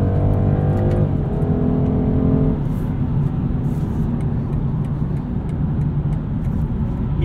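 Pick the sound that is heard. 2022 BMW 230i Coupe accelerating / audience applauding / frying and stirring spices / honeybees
2022 BMW 230i Coupe accelerating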